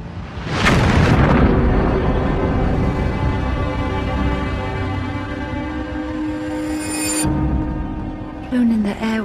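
An explosion tearing apart Darnley's bedroom erupts in a sudden loud boom followed by a long rumbling roar with ringing tonal debris that sustains for several seconds, cut off abruptly, then a brief rising whoosh at the end.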